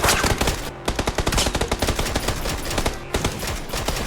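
Enemy gunfire in the PUBG battle game: a loud, sustained burst of rapid automatic shots with brief gaps, dense and continuous throughout, with no talking.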